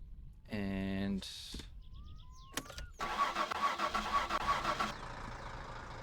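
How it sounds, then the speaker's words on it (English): Satsuma car in My Summer Car cranking and firing up, a grinding starter followed by a rough, steady running engine, with a brief tone and chirps before it. "the car will start properly then"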